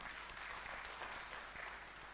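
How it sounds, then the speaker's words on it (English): Applause at a fish product launch event, honouring the Vice Chancellor: a steady, moderately loud round of clapping from an audience that fills the whole short stretch without a break. "Another round of applause"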